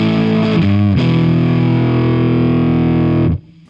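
Budget Stratocaster-style electric guitar on the neck and middle single-coil pickups, run through distortion, strikes a chord, shifts to another that rings out for a few seconds, then cuts off abruptly.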